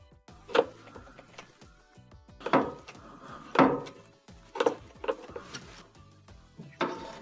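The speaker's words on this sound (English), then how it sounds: "Then we're going to use a tack puller to go underneath the rubber and start to peel that out if it's stuck." A tack puller works rubber loose from a washing machine, making a series of irregular scraping and clicking bursts with short pauses between them, close up and with no voices.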